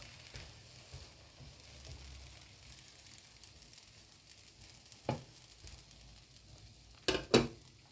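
A crêpe cooks in a pan with a soft, steady sizzle throughout, then near the end a couple of sharp utensil clinks against the pan, picked up close and quiet.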